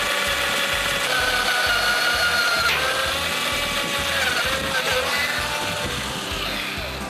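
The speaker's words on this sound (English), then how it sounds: "this 1/8 double ender stub drill bit probably going to do the trick better" A power drill with a 1/8 double-ender stub bit boring a hole for a car rain gauge, giving a continuous close, loud whirring grind with slight shifts in pitch.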